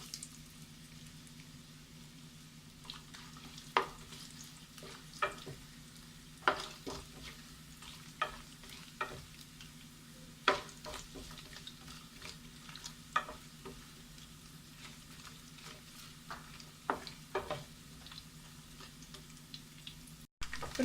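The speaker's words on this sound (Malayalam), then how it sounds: "ഇനി ഇതിലേക്ക് ആദ്യം തന്നെ തേങ്ങാക്കൊത്തൊന്ന് ലൈറ്റ് ബ്രൗൺ" Coconut pieces fry in hot oil, a soft constant sizzle broken by repeated scraping stirs and occasional clinks of a spoon against the pan, close and quiet with no talking.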